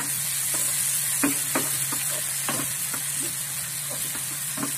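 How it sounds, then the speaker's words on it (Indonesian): Chili, ginger, bay leaves and lime leaves stir-fry with oyster sauce in a hot pan, a steady close sizzle and hiss broken by scattered scraping stirs, with no voices. "Kita tumis."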